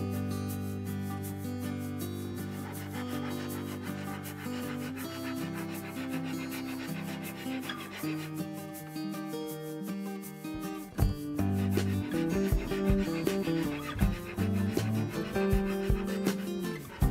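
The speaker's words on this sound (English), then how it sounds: "Now the good thing about a Shinto saw rasp is that they remove a lot of real estate pretty quickly." Shinto saw rasp shaping the wooden arm contour of an Ovation Deacon copy guitar body, a faint scraping under a dense musical backdrop for the first half, then louder rhythmic rasping strokes near the end, no talking.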